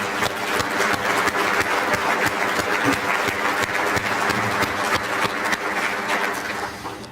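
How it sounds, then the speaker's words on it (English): A civic audience at a State of the City address in Marion applauds steadily, a broad, even roar of many hands clapping that holds for about seven seconds before tapering slightly, with no talk over it. "I think that deserves applause."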